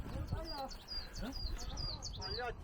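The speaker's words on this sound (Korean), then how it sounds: "새소리가 아주 이쁜 새소리가" Faint chirping birdsong with repeated high, quick whistled notes, heard at a distance under soft human voices and outdoor background noise on a mountain, Pungaksan in Namwon, South Korea.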